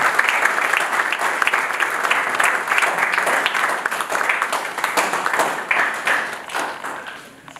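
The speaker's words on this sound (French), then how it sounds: "je vous invite à applaudir" A theatre audience applauds a book author with dense, steady clapping that stays loud for several seconds and thins slightly toward the end, with no voices over it.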